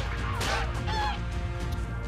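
Bird calls from the video game ARK: Survival Evolved, harsh honking, goose-like squawks repeating over a steady game background, loud and near.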